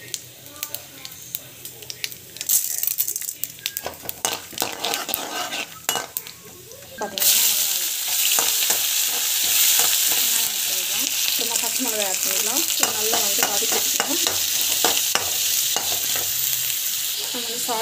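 Mustard seeds and cumin frying in a pan, a close, loud sizzle that swells suddenly and holds steady, with scattered stirring scrapes and utensil clinks against the pan.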